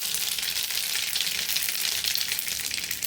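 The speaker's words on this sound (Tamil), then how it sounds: "இப்போ தாளிக்கிறதுக்கு தேவையான அளவுக்கு எண்ணெய் ஊற்றிட்டு, அதுக்கப்புறம் கடுகு, நல்லா கடுகு வெடிச்சு வந்ததுக்கப்புறம்" Steady, dense sizzling and crackling of mustard seeds popping in hot oil, close and continuous with no voices.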